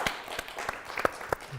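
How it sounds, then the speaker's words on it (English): Applause from an audience at a live-streamed prize drawing for fraternity gift card winners: scattered, moderately faint claps with a few sharper individual hits over a soft background, no talking. "give a round of applause"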